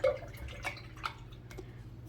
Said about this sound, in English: So I'm going to clean off my brush.